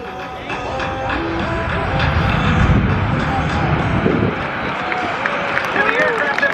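A US Air Force C-17 Globemaster III roars with reverse thrust after touchdown at an airshow, a loud, sustained rumbling jet wash that swells and holds, with a crowd and an announcer's voice audible over it.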